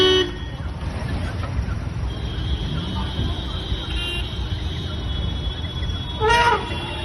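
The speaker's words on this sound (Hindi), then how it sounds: "वीडियो में वाहन चालक तेज आवाज वाला हॉर्न बजाते हुए सुनाई दे रहे हैं।" Vehicle horns honk in heavy road traffic, with loud tooting over a constant roar of traffic noise and a sharp, bright blast near the end.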